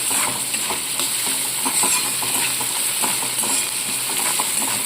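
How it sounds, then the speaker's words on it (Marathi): Chopped onion frying in oil in a home kitchen for a Satara-style peanut dish, a steady close sizzle with light stirring and occasional utensil clinks throughout. "अशा प्रकारे कांदा इथे आपल्याला भाजायला लागलेला आहे"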